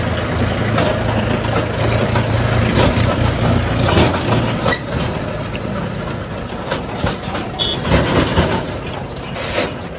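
A tractor heads toward a village with a low, throbbing diesel rumble and rattling clatter nearby, loudest early on before easing into an uneven chug, and no one speaks.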